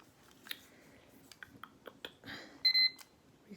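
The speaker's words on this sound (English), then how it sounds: "let's get my little timer out" A small timer being set with a run of light clicks and taps, followed by a brief burst of bright, high electronic beeps near the end; quiet and close, with no talking.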